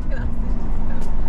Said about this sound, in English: Start the Lambo. Listen to that.